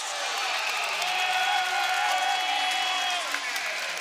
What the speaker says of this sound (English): Dante Scott getting this crowd into it. We haven't heard this noise in so long